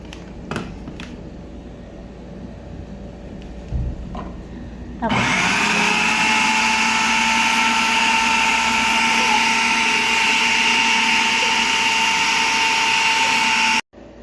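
A blender starts up partway through and roars loudly and steadily near the listener, blending molokhiya (jute leaves) with a little water, after a quieter stretch with faint background noise.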